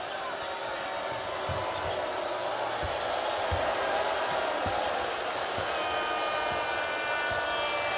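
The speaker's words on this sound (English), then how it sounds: "this crowd is loud" Loud arena crowd at an NCAA women's basketball tournament game between Mississippi State and USC, a constant roar of noise with scattered sharp ball bounces and thuds, plus an announcer talking over it.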